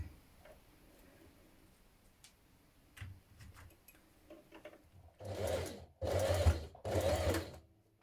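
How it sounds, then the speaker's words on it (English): A sewing machine stitches ribbon loops onto a dress. Faint ticks and handling noises come first, then three close, loud bursts of rapid mechanical stitching, each about a second long. "now I'm going to sew them on"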